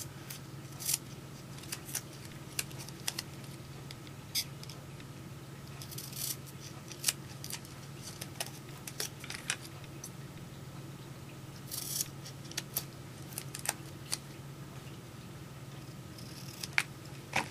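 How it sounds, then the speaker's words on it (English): Scissors cut around a section of paper card for a Valentine's Day card: a long run of quiet, sharp snips at irregular intervals over a faint steady background hum, close by and without speech. "I'm going to cut around that section to the little square that I want"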